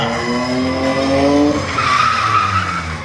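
Monster truck doing a controlled reverse skid at a show, a loud engine roar sliding up in pitch, then a sustained squeal of tires skidding, close and continuous.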